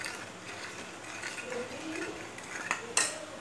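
A spoon stirs milk heating in a pan for coffee, giving soft, faint scraping and clinking against the metal with a couple of sharper taps near the end, no talk.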